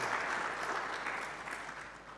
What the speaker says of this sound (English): Another clap for Jerome.